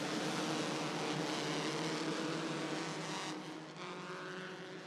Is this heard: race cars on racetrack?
yes